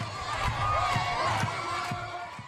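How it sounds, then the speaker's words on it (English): A crowd applauding Eritrea's President Afwerki on state television, a steady wash of clapping and cheering with rhythmic low thumps, moderately faint. "here he is being applauded by his adoring people"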